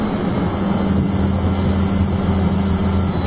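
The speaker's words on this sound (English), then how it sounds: "when I had the motors throttled up, I got a lot of vibration" Tri-copter motors and propellers spinning at high throttle, a steady loud buzzing drone with strong low hum tones and a vibrating edge, continuous and close throughout.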